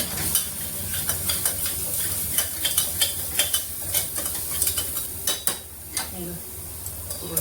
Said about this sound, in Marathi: आता याला हलवून घेते.